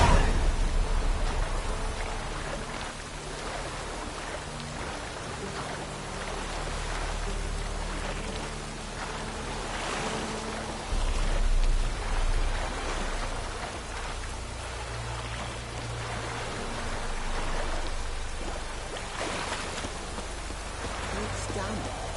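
Steady rainfall in Witcher 3, a continuous hiss of drops pattering on surfaces with low rumbles, occasional louder swells, and scattered movement sounds throughout.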